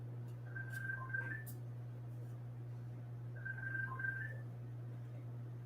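An incoming call ringing on a phone during a live stream: two short warbling trill bursts a couple of seconds apart, faint against a steady low electrical hum, with no talk.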